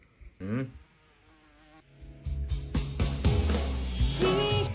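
A housefly buzzing and flying around indoors, its whine rising and falling as it moves near and away, set against louder background music and tones.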